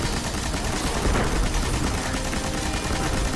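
Dense, continuous gunfire during a Destiny raid in Crota's End, a steady rattling volley that stays loud and close throughout with no pauses.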